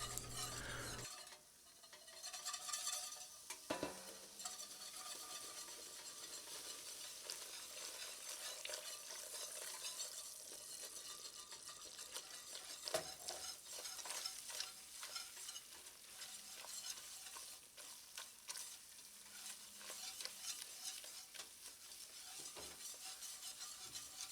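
Flour stirred into hot oil for a Cajun gumbo roux, first with a whisk and then a wooden spoon; a long, steady sizzle with continuous scraping strokes and occasional light taps against the pot, quiet and close, no voices.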